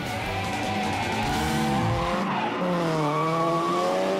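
A Bubba Drift El Camino and a wide-body Rotora S13 drift car at Soldier Field, Chicago, with loud continuous tire squeal and a wailing high-revving engine as they slide past, with no talk over the noise.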